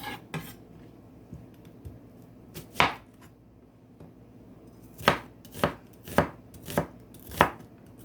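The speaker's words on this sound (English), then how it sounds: "See how small I use this onion, so I'm just cutting up enough" Knife chopping an onion on a cutting board for a flatbread pizza: a few scattered cuts early, then a steady run of five sharp, evenly spaced knife strikes close by, with quiet between them.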